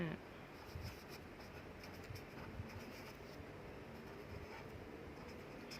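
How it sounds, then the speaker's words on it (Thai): A pen scratches steadily as a date is written by hand on paper, faint and close against a constant background hiss, with occasional quiet talking. "แอดเขียนวันที่ก่อนพี่น้องจ๋า"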